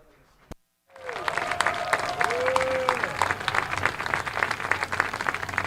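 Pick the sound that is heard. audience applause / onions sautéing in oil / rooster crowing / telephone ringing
audience applause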